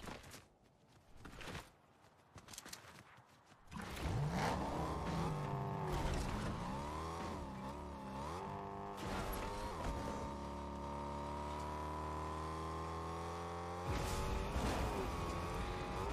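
A car in Fortnite starts up and drives off, the engine rising and falling in pitch through revs and gear changes, loud and steady after a few seconds of quieter game sounds.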